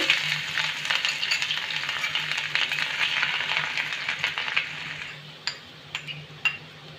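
Grated ginger and asafoetida sizzle steadily in hot oil while a singara filling is being made, a loud continuous frying hiss that eases off toward the end, followed by a few sharp clinks of a utensil against the pan.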